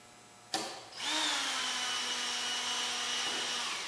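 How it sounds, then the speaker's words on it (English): A power drill bores pilot holes in the plastic air box of a Kawasaki Concours ZG1000, starting with a sharp bite and then a steady, close, high whir that holds for a few seconds. "I'm going to drill some pilot holes"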